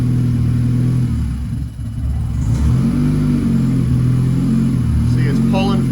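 A Nissan Juke running a stock ECU flex-fuel setup idles loudly up close while warming up, its engine holding a steady rumble with a brief dip and then a mild rise in revs.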